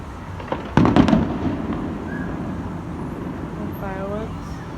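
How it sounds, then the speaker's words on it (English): Fireworks bursting over a soccer field during a National Day Parade evening, a loud cluster of sharp cracks and booms near the start, then a rumbling, fading echo amid steady city traffic noise. "Fireworks,"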